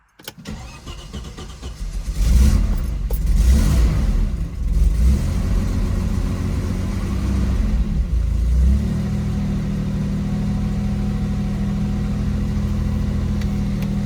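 A Peugeot 604 V6 Ti fires up with a brief crank, then its V6 roars through a few loud revs close by before settling into a steady, throaty idle.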